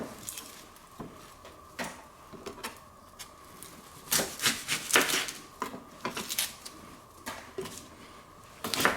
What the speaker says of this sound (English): I'm just cutting this into very little slivers